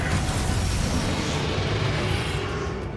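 A Descendo spell impact in Hogwarts Legacy lands as a loud, dense, rumbling crash that holds steady for about three seconds and only begins to ease at the end.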